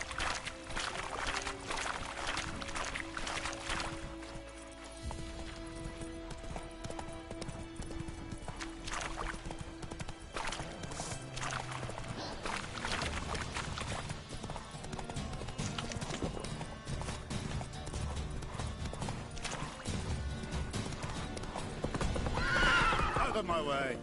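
A video game horse named Roach gallops with rapid clip-clop hoofbeats and lets out whinnies, mixed with game sounds and music over changing, fairly steady loudness.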